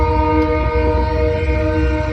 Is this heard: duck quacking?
no